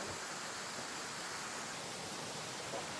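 Water pours steadily over black rocks, a continuous broadband rush that holds even from start to finish, with no voices over it.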